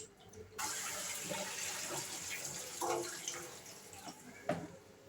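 Fruit being washed under running water at a kitchen tap, a steady splashing stream at low level with a few clunks and splashes as the fruit is handled.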